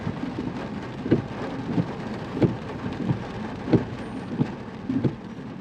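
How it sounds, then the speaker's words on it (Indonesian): Rain falls steadily on a Jakarta street on a late afternoon, a constant close hiss of drops broken by repeated dull thumps and low rumbles at irregular intervals. "situasi Jakarta sore hari plus ditambah dengan rintik hujan"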